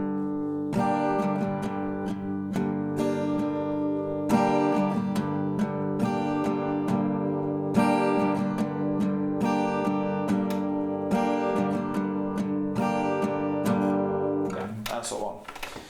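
An acoustic guitar plays a slow strumming pattern of steady down and up strokes, ringing chords sounding clearly and close with no talk over them, ending in a brief scrape of the strings.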